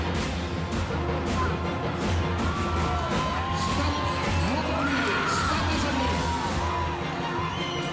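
A crowd at the South African saddle horse national championships cheers and whoops steadily, loud and continuous, with a low hum of an arena in the background.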